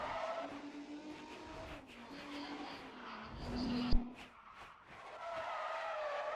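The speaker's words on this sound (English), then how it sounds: "nitrous drift" Engine drone and sustained tire squeal from a drifting car using nitrous in Need for Speed: ProStreet on the Autobahnring, with a rising skid tone ending in a sharp thump, fairly faint throughout.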